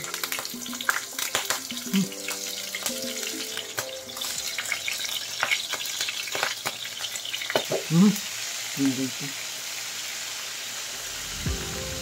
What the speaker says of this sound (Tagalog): prituhin muna natin yung ating hipon